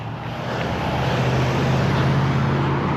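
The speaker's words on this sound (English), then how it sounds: "It's a lot of traffic over here." Busy road traffic passing nearby, a loud, continuous low rumble and hiss of vehicles with no breaks and no talk.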